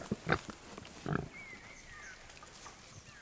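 A few short, low pig grunts at the start, close by, then quieter rustling and faint background noise.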